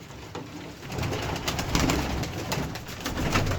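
Game pigeons in a coop coo repeatedly at close range, soft throaty calls overlapping in an irregular rhythm over faint background rustling.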